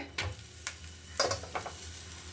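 A mung bean sprout paratha cooks in a little oil on a pan over medium flame. Soft steady sizzling runs throughout with a few scraping, shuffling stirs of a spatula, close and without talk.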